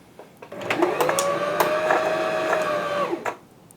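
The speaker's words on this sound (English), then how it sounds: "the machine does not operate while the bobbin is winding" A Husqvarna H Series E10 sewing machine winds a bobbin with a steady, close electric motor whine that runs for about three seconds, rising in at the start and dropping away at the end.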